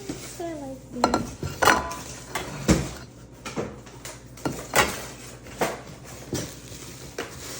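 Stainless steel cooking pots, a big soup pot among them, being unboxed and handled: a series of sharp metallic clanks and knocks at irregular intervals, close and moderately loud, with brief voices in between.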